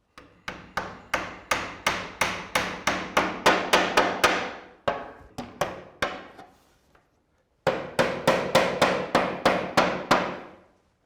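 Nails being hammered into slate roofing: a close, loud run of sharp hammer blows at a steady rhythm, slowing into a few spaced strikes, then a brief pause before another quick series of blows.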